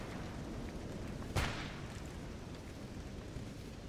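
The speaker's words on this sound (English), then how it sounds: "Who's shooting over there?" A single distant gunshot from a mercenary in the video game Stalker GAMMA cracks once, sharp and faint, over a steady ambient outdoor hiss.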